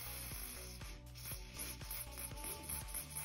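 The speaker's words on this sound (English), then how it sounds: "feed it back into the mechanism whilst applying some of the silicone spray" Repeated mechanical ratcheting clicks from a car seatbelt retraction mechanism being worked while silicone spray is applied, with a hissy spray texture underneath; no voices.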